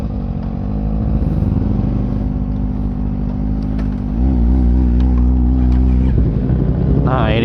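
A Kawasaki ZX25 with a short, loud exhaust at a Sunday morning ride meetup in BSD runs close by with a steady, heavy drone that swells louder midway and climbs in a sharp rev at the end.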